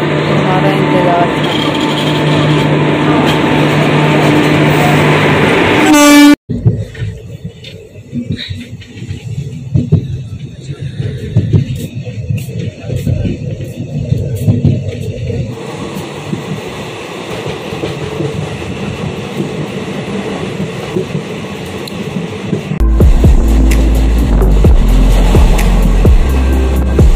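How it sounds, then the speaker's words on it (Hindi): Slow-moving train arriving at a station, a steady rumble with clattering wheels and rail clicks building, then a deeper engine drone near the end, loud and close. "वेट कराने के बाद फाइनली ट्रेन आ ही गई, वो भी इतना धीरे"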